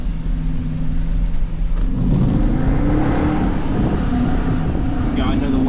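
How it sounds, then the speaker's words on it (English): Exhaust of a Hemi Jeep driving in the rain, a loud low engine rumble that swells into a rising rev midway, heard from inside the cabin with wind and road noise around it. "Quiet, let y'all hear the exhaust"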